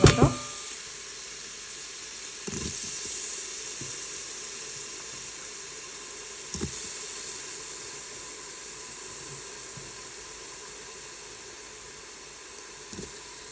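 Chopped onions frying in a pan for horse gram sambar give a steady soft sizzle and hiss that runs throughout, with a few sharp clicks and knocks of utensils against the pan.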